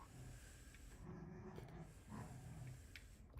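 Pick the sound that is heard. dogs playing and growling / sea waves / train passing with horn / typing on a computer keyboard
dogs playing and growling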